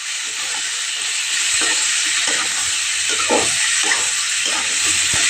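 Raw tomato pieces frying in hot oil tempered with mustard seeds, a loud continuous sizzle and hiss with repeated soft scraping strokes of a spatula stirring through it.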